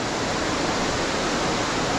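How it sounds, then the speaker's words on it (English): Hareshaw Linn waterfall sends out a steady, even roar of rushing water, a constant broadband wash with no breaks, fairly loud and somewhat distant. "But you can hear the roar of the water"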